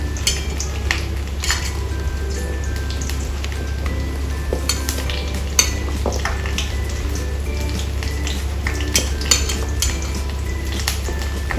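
Brinjal slices coated in cornflour and salt fry in a little oil, with metal utensils clinking and scraping against the pan over a faint sizzle and a steady low hum.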